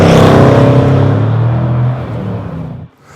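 A 2019 Jaguar F-Pace SVR performance SUV drives by loudly with a deep, throaty engine roar that fades and drops in pitch, ending abruptly near the close.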